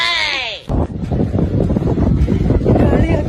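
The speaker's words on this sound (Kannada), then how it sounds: "ಗಾಳಿ ಕೋಪರೇಟೇ ಮಾಡ್ತಾ ಇಲ್ಲ" Wind buffets an outdoor microphone in a loud, continuous low rumble with gusty surges, after a brief tonal sound at the very start.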